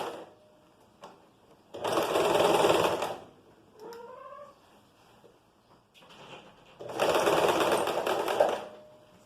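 A sewing machine stitches fabric for a top in two loud, close bursts of rapid whirring separated by quiet handling of the cloth and a short squeaky sound between them.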